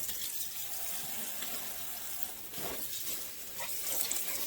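Hot tap water runs into a sink to fill a fresh batch for rinsing collard greens, a steady moderate rushing stream with slight surges.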